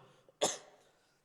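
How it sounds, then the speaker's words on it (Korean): A single short, sharp cough, close by, breaking an otherwise quiet moment. "떠났던 기침이 갑자기 또 찾아오려고 하네요."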